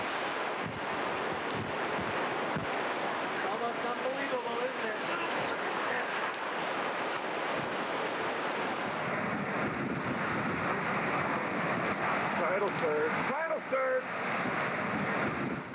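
Hurricane wind roaring steadily with wind-driven rain, a dense continuous rush buffeting the microphone, loud and unbroken throughout, with a voice faintly audible under it.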